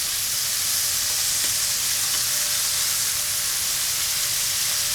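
Pork searing in a hot Dutch oven crackles in a dense, steady sizzle with a bright spitting hiss throughout, close and loud without any talking.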